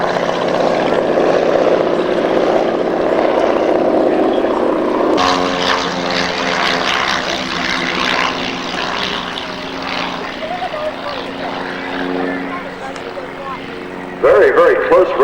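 Propeller racing aircraft at Sky Race Tasmania, Valleyfield, drone loudly as they race past close by, the engine pitch shifting as they pass, with a commentator talking throughout.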